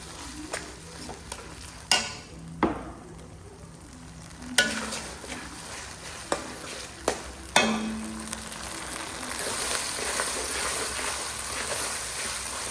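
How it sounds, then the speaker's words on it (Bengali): Ginger-garlic paste and garam masala frying in a pan, with a soft sizzle and several sharp clanks of a utensil stirring and scraping, the sizzle swelling louder toward the end. "আদা আর গরম মশলাটা একটু ভাজা ভাজা করে নিয়ে"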